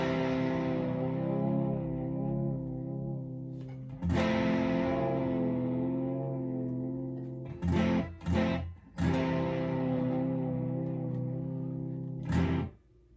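Sustained electric guitar tones drenched in effects and reverb, with a wavering tremolo and a few sharp strummed attacks, loud and alone.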